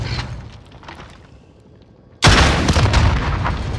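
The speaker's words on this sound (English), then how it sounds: "Launching rocket." After a stretch of low game ambience, a rocket fires in a military shooter with an abrupt, heavy boom that keeps roaring loudly on until the clip ends.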